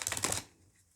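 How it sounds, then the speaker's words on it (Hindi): Tarot reading cards being shuffled, a quick papery riffle of close, soft flutters lasting under half a second, then quiet. "एक बार शफल और कर लेते हैं"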